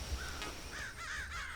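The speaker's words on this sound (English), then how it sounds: "there's a crow" A crow caws several times outdoors, faint and at a distance, in short hoarse calls over quiet background ambience.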